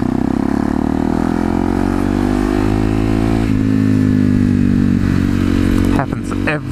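A motorcycle engine hums loud and steady while being ridden, its pitch climbing slightly and then holding before the sound roughens and drops off near the end.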